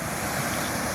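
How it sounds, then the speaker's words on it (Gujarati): A steady rush of flowing water fills the short moment, broad and continuous with a faint windy edge. "આ તમે પાણીનો ખાલી અવાજ સાંભળો"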